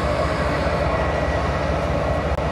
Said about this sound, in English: Damn, that train is crazy.